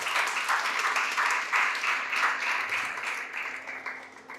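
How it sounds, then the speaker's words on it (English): A school debate audience applauds a student introduced at the New Media Conference, steady dense clapping from a sizable crowd filling the room and tapering slightly toward the end. "Let's give her a good round of applause, please."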